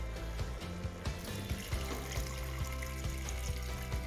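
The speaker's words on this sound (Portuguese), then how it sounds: "Agora eu vou colocar a água." Water poured into a pot of sautéed beef ribs with seasonings for ribs with potatoes, about 400 ml, giving a steady close splashing and sizzling wash throughout.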